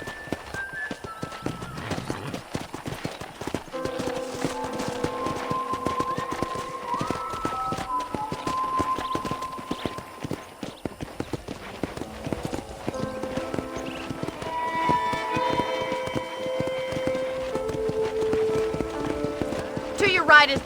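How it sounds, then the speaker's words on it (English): Hoofbeats of a ridden horse in the video game Red Dead Redemption, a rhythmic clip-clop close by with an occasional whinny, running under steady in-game dialogue and light background music. "let's see if you can still ride a horse"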